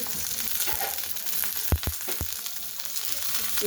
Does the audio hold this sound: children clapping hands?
no